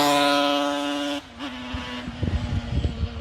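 A two-stroke engine revs out on a country road with a high, steady buzzing note, then the pitch drops and fades back to a lower idle-like drone with uneven bursts.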